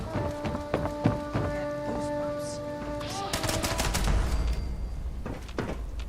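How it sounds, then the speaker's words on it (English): A Gatling laser fires in Fallout 76, giving rapid crackling bursts with a steady whining tone, then a louder clattering barrage and scattered impacts. "There's a Gatling laser."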